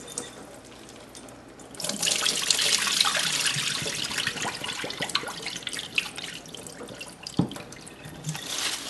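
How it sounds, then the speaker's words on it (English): Raw grits being rinsed under a running kitchen tap, a steady close rush of water with splashing and occasional drips, lasting most of the span without talk. "We're going to rinse that off for the second time."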